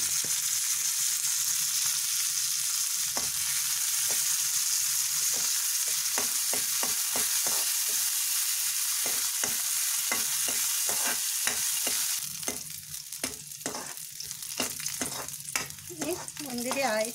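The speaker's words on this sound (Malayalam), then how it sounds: "ഒരു സ്പൂൺ നെയ്യ് ഒഴിച്ചിട്ട് നമുക്ക് ഈ റൈസിൻസ് ഉണക്കമുന്തിരി ഒന്ന് വറുത്തെടുക്കാം" Raisins frying in ghee in a pan for cooker semiya payasam, a steady close sizzle with frequent spoon scrapes and stirring clicks throughout, growing busier and louder toward the end.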